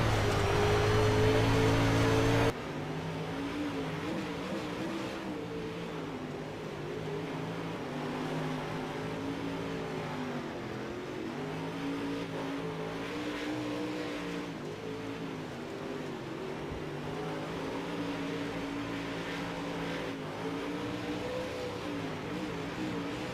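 Dirt modified race cars on the Volusia track in a racing video game, a steady pack of engines droning and shifting pitch continuously, loud and close with no talk over it.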